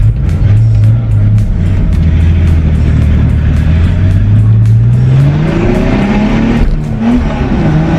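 A Ford Mustang V6 engine drones steadily up close, its pitch gradually climbing then dipping and rising again as the revs change, with no talking.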